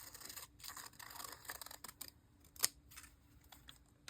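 Scissors snip quietly through paper while cutting out a piece for an art journal, a few soft irregular cuts and rustles with one sharper click, faint and close with no voices.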